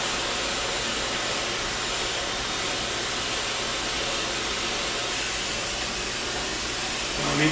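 A hair dryer blowing steadily and loudly at close range, a continuous broadband whoosh as hair is blow-dried from the front for a smooth blowout, with no speech over it.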